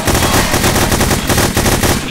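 Rapid automatic gunfire sprays in a continuous burst during a round of the video game The Hidden, loud and close with fast repeated shots.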